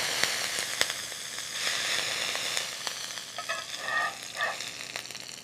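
A smashed beef burger patty seasoned with salt, pepper, garlic and onion powder sears in a hot pan, giving a steady close sizzle with crackles and spitting pops.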